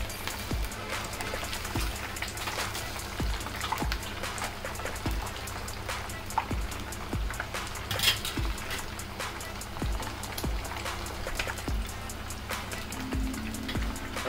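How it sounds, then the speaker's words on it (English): Chicken kababs fry in hot oil with a dense, steady sizzle, crackle and scattered pops throughout, close and continuous with no talk. "let me fry this and get back to you guys after the rest of the batches. You can see the color, it's really good and it's frying."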